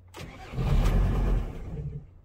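A Volkswagen LT 2.5 TDI diesel engine cranks and catches briefly, roaring loud and close for about a second before the immobilizer cuts it and it dies away.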